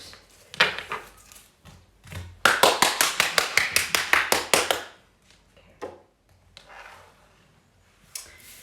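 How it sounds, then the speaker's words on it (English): One person claps hands a dozen times in a quick, even burst after a few scattered single claps, then a few sparse claps follow. The claps are crisp, close and loud in a quiet room. "I'm going to clap my hands."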